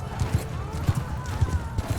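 Vlandian horse hooves thudding in Mount & Blade II Bannerlord, a quick run of dull, rhythmic clip-clop beats close by with a faint whinny-like tone above.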